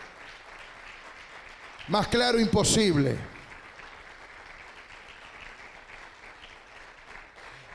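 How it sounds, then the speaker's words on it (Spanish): A church congregation applauds loudly during a sermon, a steady broadband clatter running throughout, with a voice briefly shouting over it near the middle. "Dele un aplauso bien fuerte a la palabra de Dios."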